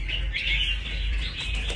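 A caged red-whiskered bulbul gives a clear, close chirping call, a bright warbling phrase held over a low background hum, with no talking.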